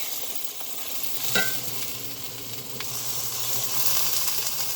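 Shiitake mushrooms drop into a pan of cooking onions, setting off a steady low sizzle with a brief stirring scrape and a few clinks, heard close and fairly quiet.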